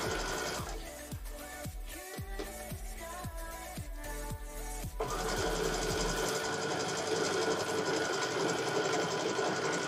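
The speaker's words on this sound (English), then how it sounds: "Sewing along." A sewing machine stitches a T-shirt quilt table runner, with rhythmic rapid needle thumps for several seconds followed by a steadier hum of running noise.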